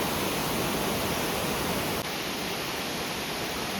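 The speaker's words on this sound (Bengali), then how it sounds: "প্রবল বেগে নদীটা ঝর্ণা আকারে পড়ছে" Bhairavsthan falls, a river plunging as a waterfall, gives a loud, continuous broadband rush of falling water, steady and unbroken with no voices.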